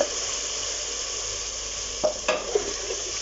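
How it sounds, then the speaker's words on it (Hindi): Masala of tomato and green chillies, with a little water added, sizzles and fries in a pan for a chicken curry, a steady hiss broken by a few short stirring scrapes near the end. "ताकि मसाला हमारा जो है ऐसे भून जाए और जले नहीं।"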